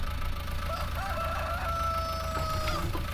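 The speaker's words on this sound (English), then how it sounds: "Chickens are climbing it anyway." Chickens cluck and a rooster crows in a survival video game over a steady low mechanical hum, the bird calls fairly close and clear.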